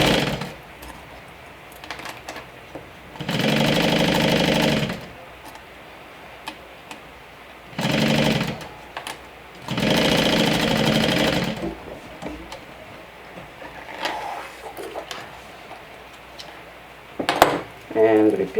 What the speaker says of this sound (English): you want to go ahead and sew the two outside edges in a loop